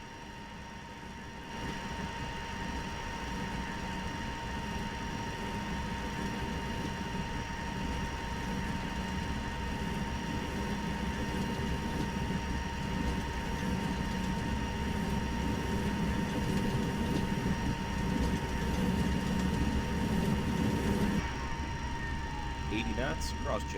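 MD-80 airliner engines in a flight simulator game hold a steady, loud, broadband roar during the takeoff run, then cut off sharply near the end.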